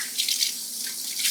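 Water gushing steadily from a sanitation hose while knives are hand washed in a commercial kitchen, a continuous close splashing hiss with no talk.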